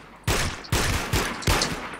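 Four loud gunshots in the WarMode shooter game fire at a steady, roughly half-second rhythm, each a sharp close crack with a short ringing tail.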